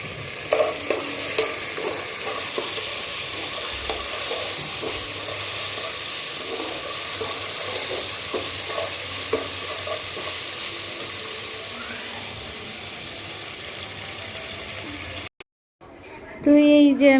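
Oil sizzling in a pan as ingredients are fried for pulao, a steady crackling hiss with stirring scrapes throughout, joined near the end by a clearer sizzle burst after a brief pause.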